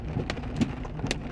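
Hail pelting down in a Sedona monsoon storm, scattered sharp ticks and taps on hard surfaces over a steady wash of falling rain, close by.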